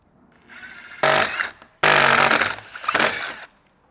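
A power drill runs in three short bursts through aluminium with a 10.5mm bit, each burst loud and close, separated by brief pauses.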